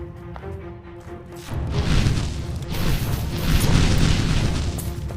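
A fire punch attack in the VR game Magitek VR, a rising whooshing burst of roaring flame and impact that begins abruptly and keeps surging in loud waves, with no talk over it.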